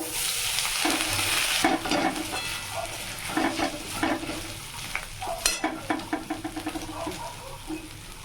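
Whole cinnamon, cloves and cardamom, then ginger paste, fry in hot oil, with a steady sizzle broken by repeated scraping strokes of a spatula stirring the pan, close up.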